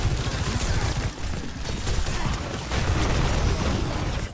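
Dense, continuous gunfire in an Overwatch match, several weapons firing at once in a loud, crackling barrage with a brief dip partway through.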